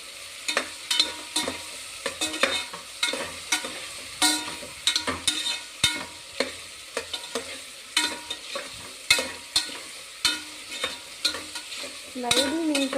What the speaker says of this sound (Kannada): ಇದು ಹಾಕಿ ಚೆನ್ನಾಗಿ ಫ್ರೈ ಮಾಡ್ಕೋಬೇಕು.